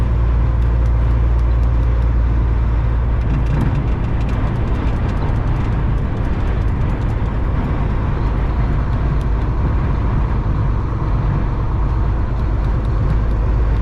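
A truck cruises on a highway with a steady, loud low engine drone and road rumble, continuous and unbroken throughout, with no talking.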